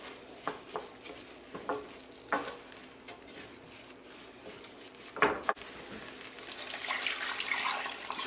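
Vegetarian stock poured into a pot of rice for festive tomato rice, with scattered utensil clinks early on and a rising wash of sizzling and pouring liquid that builds toward the end.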